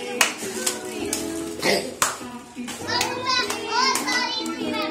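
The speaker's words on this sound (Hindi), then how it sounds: "तालियां बजाते रहना और चिल्लाते रहना" Children at a birthday party clap and shout together: sharp, uneven hand claps mixed with excited, high-pitched cheering voices, loud and close throughout.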